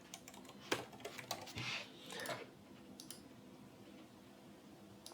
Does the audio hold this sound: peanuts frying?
no